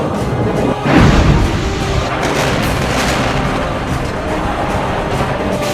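Bomb explosions at parliament for a film sound effect, a loud heavy boom near the start followed by a dense rumbling roar that stays strong throughout.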